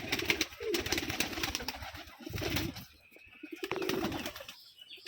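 Pigeons cooing at a Rajshahi farm for gerebaj pigeons, a flock made up mostly of black birds. Soft, overlapping coos repeat continuously at close range, with brief quieter gaps between the calls.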